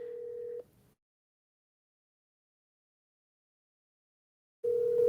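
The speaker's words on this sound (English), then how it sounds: "I can hear the phone going off downstairs." A telephone rings downstairs, with two steady electronic ring bursts at the start and end, separated by about four seconds of silence. The rings are moderately loud and clear, and no voices are heard.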